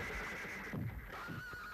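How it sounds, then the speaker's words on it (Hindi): A horse whinnies once in a quiet stable setting, a brief, faint, wavering neigh heard at a distance over a low background hiss. "ये क्या घोड़े रखे हुए हैं?"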